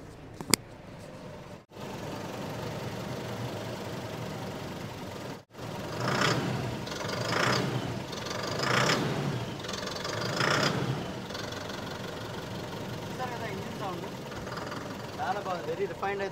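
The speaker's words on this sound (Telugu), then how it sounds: "ఇంజన్ సౌండ్ అయితే చూసారు కదా" A commercial truck engine idles steadily in neutral with the clutch pressed, a smooth, refined mid-pitched hum running throughout, with a person talking over it.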